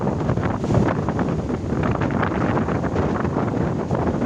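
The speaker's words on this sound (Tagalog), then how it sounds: "Dinig nyo naman siguro ng hangin" Strong, gusty wind on a beach at Bucana roars continuously across the microphone, a dense buffeting rush with the faint wash of surf beneath it.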